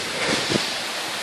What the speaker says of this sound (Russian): Наш водопадик.